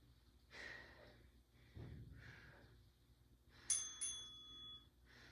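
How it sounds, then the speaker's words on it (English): A workout timer bell rings twice in quick succession, bright and clear, during a postpartum glute workout, with heavy breathing and exhaled breaths around it. "So there's your bell."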